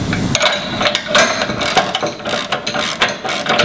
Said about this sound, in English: do both the nuts up until they just touch and pull pressure onto the surface